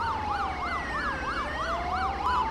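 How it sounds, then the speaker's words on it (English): A Victorian fire siren from a police mod of GTA 5 wails loud and close in a steady, fast rising-and-falling cycle, with a second tone gliding slowly underneath, no voices over it. "the awesome Victorian fire siren"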